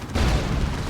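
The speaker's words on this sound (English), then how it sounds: "There's the Demolisher Cannon, misses the Chaos Lord." Demolisher Cannon firing in Dawn of War 2, a single heavy, booming blast that rolls into a sustained low rumble over less than a second.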